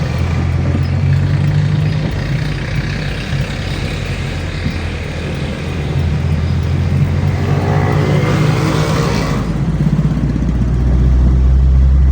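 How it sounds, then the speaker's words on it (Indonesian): Passing motorcycle engine near a workshop where a Toyota Corona 1.6 4A-F carburetor car is being tested, a steady loud engine drone that rises and swells near the end. "Ini motor apa mobilku ya? Kayaknya bukan mobilku deh."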